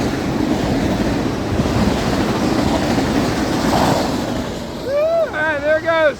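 Florida East Coast Railway northbound train rushing past in St. Augustine, Florida, a loud steady roar of wheels and wind throughout, with a voice cheering and talking over the final seconds.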